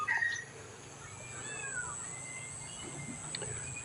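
Cats at a Thai temple meow, with one clear cry at the start and a few fainter mews afterward over quiet background ambience.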